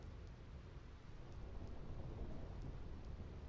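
Steady low rumble of thunder with rain hissing throughout in the Final Fantasy X stormy plains of Macalania, a continuous dull roar that swells slightly midway, no voices.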